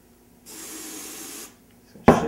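Homemade pong ball blaster being charged, a steady one-second hiss of spray into its tube, followed after a pause by a sharp, louder burst of noise at the end.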